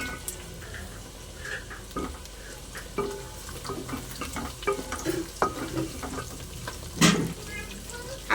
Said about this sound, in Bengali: আলুটা আমি একটু ভাজা ভাজা করে নিয়েছি,